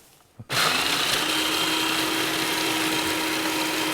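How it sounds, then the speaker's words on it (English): A blender switches on abruptly after a brief clatter and runs at a loud, steady high whine, grinding ingredients into a powder close by without pause and with no voices. "Just go ahead and dump it in there and give it a few pulses."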